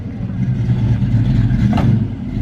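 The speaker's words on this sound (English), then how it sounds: "rumble of a good engine or whatever was rumbling, a muffler" Engine rumbling through a muffler in the countryside, a loud steady low throb that holds for the whole stretch with a slight swell and a brief clatter near the end, no talk.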